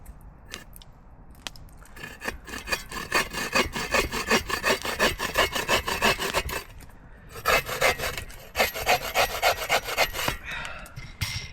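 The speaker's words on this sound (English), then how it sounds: "I'm going to cut a little groove in this." A small saw cuts a groove in wood at a forest campsite, rapid rhythmic rasping strokes close by in two long bursts separated by a short pause, with a few knocks before the sawing begins.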